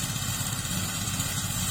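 An 18-horsepower engine drives a rice thresher during a palay harvest, a steady, loud, close mechanical drone with constant vibration and no talking.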